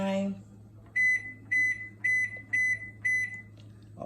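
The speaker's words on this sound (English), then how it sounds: "Guys, I am going to steam this chicken inside the microwave for about" A microwave oven beeps as its timer is set, giving five short, identical electronic beeps at a steady rhythm, clear and close over a low steady hum, with a brief voice at the start.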